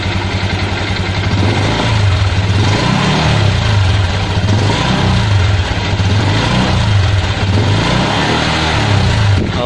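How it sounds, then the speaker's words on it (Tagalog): A Honda Click 125i or Yamaha Mio Soul i 125 scooter fitted with a new exhaust revs under throttle, loud and close, its engine note rising and falling in repeated swells over a steady idle. "so yun yung tunog niya with this new stylish na exhaust"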